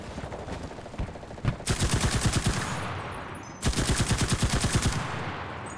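MP38 submachine gun in a video game firing two sustained bursts of rapid automatic fire, loud and close, separated by a short pause, with no talk over it.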